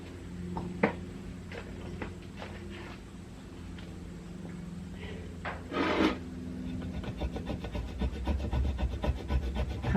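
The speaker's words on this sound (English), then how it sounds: "I'm gonna get a piece of wood and scrape that off." A piece of wood scrapes hardened residue off a surface in a series of short, close rasping strokes, sparse at first and then coming in a quicker run of rubbing scrapes, with no talking.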